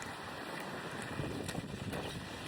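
Gusty wind buffets the microphone outdoors on a rainy Dubai morning, a constant low roar with brief louder gusts and no speech.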